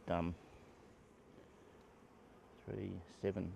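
Faint bees hum steadily in the background, a soft continuous buzz, while someone speaks briefly at the start and near the end.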